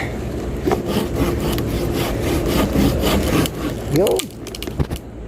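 A hand saw rasping through wood in steady back-and-forth strokes, close by, with a brief squeaky scrape near the end.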